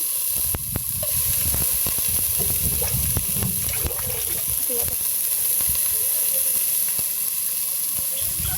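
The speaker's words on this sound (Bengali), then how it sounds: "চালটা ভাজার জন্য প্যানের মধ্যে আমি পেঁয়াজ ঢেলে দিয়েছি" Onions sizzle in a pan for village-style biryani, a continuous close frying hiss with sharp clicks and scrapes of stirring.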